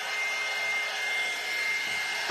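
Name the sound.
dryer drying a painting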